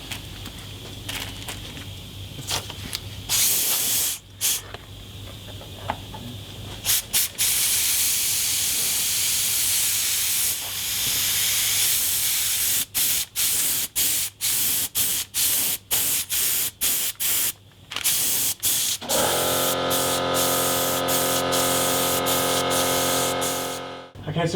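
A spray gun mists light coats of clear lacquer over an electric guitar body under restoration, a steady loud hiss broken by frequent short pauses between passes, with talk part of the time.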